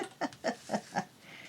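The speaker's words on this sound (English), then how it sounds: "That was my stomach, if you can hear it." A stomach growls in four short gurgling pulses at an even rhythm, then trails off into a faint rumble; quiet and close.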